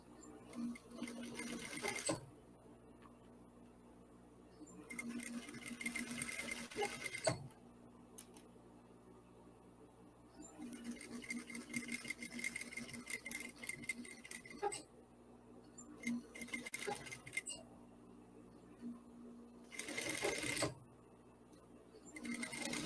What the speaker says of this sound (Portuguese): aqui eu vou unir, costurando aqui, 1 centímetro aqui de costura